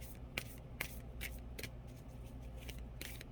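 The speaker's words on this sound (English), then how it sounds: "They're a hard deck to shuffle." A deck of oracle cards is shuffled by hand, giving a faint, close series of sharp riffling snaps and soft scraping at irregular intervals over quiet room noise.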